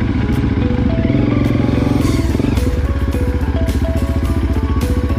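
An enduro dirt bike climbs uphill through forest on a rocky trail, its engine droning loudly and steadily with revving pitch changes and clattering, close throughout.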